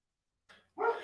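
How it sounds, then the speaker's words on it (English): A dog barks a couple of times nearby, a short yip followed by a louder, fuller bark, heard alone without talk. "Oh, the actual dogs are barking."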